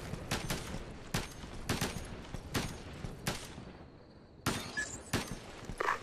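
Gunfire in the tactical shooter Ghost Recon Advanced Warfighter 2: a string of sharp, loud single shots spaced irregularly across the clip, with a short quieter gap near the end before more shots.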